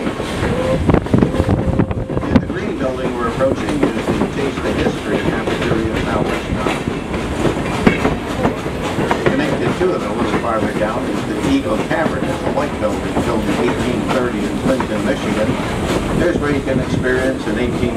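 A steam train rolls along the tracks on a trip around Greenfield Village, its steady rumble and clatter continuous throughout, with someone talking over the running noise.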